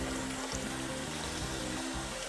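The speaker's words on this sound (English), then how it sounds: "Close it and fill it up with hot water." Hot water runs from a tap into a closed sink, a steady broadband rush with a low hum beneath it, continuous throughout and fairly close, ending in a brief knock.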